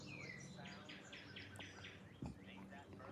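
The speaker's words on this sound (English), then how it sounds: "Enjoy the sounds of wind and birds." Birds chirp in a series of repeated high calls over a steady rushing wind, with a brief low thump near the end.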